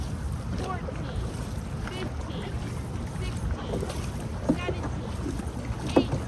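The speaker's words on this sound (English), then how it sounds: "each paddle dipping into the water with a soft splash" Dragon boat paddles dipping into open water with soft splashes, faint and irregular against steady wind and outdoor ambience, with a few slightly sharper splashes near the end.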